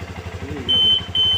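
A Drake immobilizer alarm on a Honda CRF 150 motorcycle lets out a loud, steady high electronic tone in two bursts over the low rumble of the idling engine.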